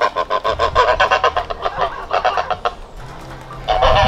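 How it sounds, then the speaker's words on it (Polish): A goose honks repeatedly at close range, loud nasal calls in a quick rhythmic series with brief breaks, alongside other fowl on a farm. "Gęś chyba zwątpiła, jak mały poszedł w jej stronę."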